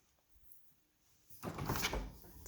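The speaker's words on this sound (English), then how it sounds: "So you just open the door" A GE Profile refrigerator door opens after a quiet stretch, its seal releasing into a fuller rustling whoosh that stays close and moderately loud until the end.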